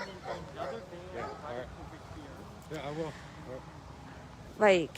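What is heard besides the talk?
dogs barking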